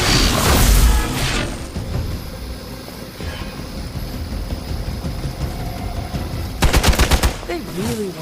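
Gunfire in the Marvel Midnight Suns video game, a loud burst of rapid shots at the start and another at the end over a constant dense layer of game noise and rumble.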